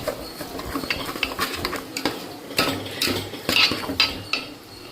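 Utensil scraping and clinking against a metal pan while ingredients for a moong dal ukkirai prasadam with raisins are stirred, irregular close clatters and scrapes with quiet gaps between them.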